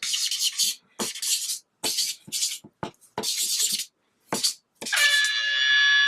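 A highlighter marker drawn quickly across paper gives a run of short, bright, scratchy squeaks in uneven bursts. The final stroke turns into a sustained whistling squeal.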